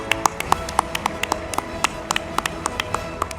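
A small group at a police awards ceremony claps in quick, fairly regular bursts of individual hand claps, sharp but not very loud, with no talking.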